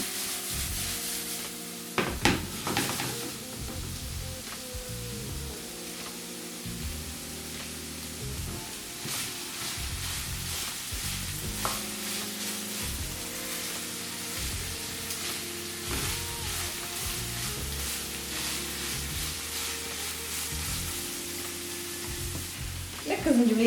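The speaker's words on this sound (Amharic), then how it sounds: "እኔ ዝንጅብሌ ትንሽ ቀደም ብሎ እንዲጠበስ ስለምፈልግ ከስጋው ጋር ቀደም ብዬ ጨምረዋለሁ።" Ginger frying together with meat in a pan for a traditional Ethiopian dish, a steady close-up sizzle with occasional scraping stirs, continuous throughout without talk.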